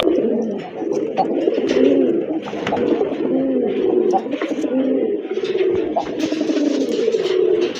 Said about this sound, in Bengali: মাশাল্লাহ আরেক জোড়া রাজগোল্লা কবুতর রেড কালারের